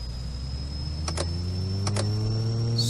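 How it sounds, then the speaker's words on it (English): A SOCATA TBM 850 turboprop engine starting in Microsoft Flight Simulator X, with a steady high whine and a low hum rising gradually as the turbine spools up, broken by a few brief clicks. "And hit the starter. It's like the default Carenado sound, isn't it?"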